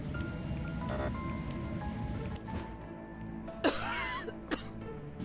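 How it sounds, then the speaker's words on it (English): A game character coughs in a Roblox horror game, one short harsh cough standing out over a faint hissing, rain-like ambient background, followed by a smaller second burst. "Oh, we keep coughing."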